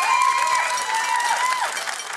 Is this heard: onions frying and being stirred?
no